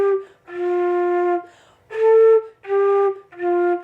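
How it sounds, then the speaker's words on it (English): Airy, fuzzy flute tone blown with a wide embouchure hole, four sustained notes in separate breaths with short gaps, each holding a steady pitch with breathy noise over it, close and fairly loud with no talking. "They'll have a fluffy sound that you can hear."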